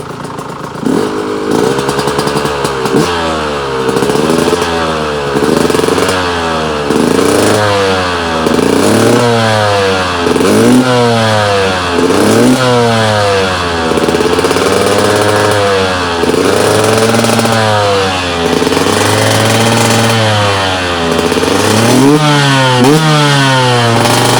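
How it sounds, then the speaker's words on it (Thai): A KTM 125 motorcycle exhaust revs repeatedly in a steady cycle of rising and falling bursts, loud and close, with no talking over it. "ฟังเสียงท่อกันสักนิดนึงนะฮะ"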